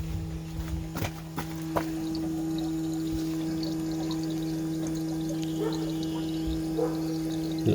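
Diesel fuel pouring out in a steady stream while a Duramax LB7 fuel filter and water separator is primed, a constant close trickle with a few knocks and clunks at the start.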